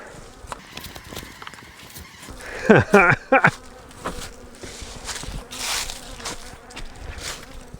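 Honey bees swarm around an open beehive while fall honey supers are pulled, a steady close buzzing with a few louder passes of individual bees near the microphone.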